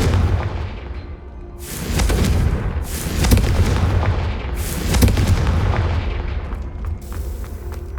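Repeated blasts from Confringo fire spells in the Hogwarts Legacy game, heavy booming bursts that land in a loose series of three or four, loud and close over a continuous rumbling background.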